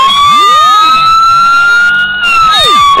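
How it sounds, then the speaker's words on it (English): A loud, close siren from a custom model Holden Commodore Victoria Police car wails continuously, its pitch sweeping up and down in repeated cycles. "And as you requested, of course, the siren."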